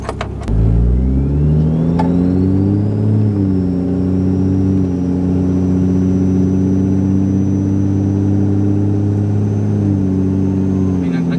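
A Ram 2500 pickup with a rebuilt, upgraded 68RFE automatic transmission pulls away from a stop. The engine rises in a loud, close drone, drops at a crisp gear change and keeps pulling with a high whine on top.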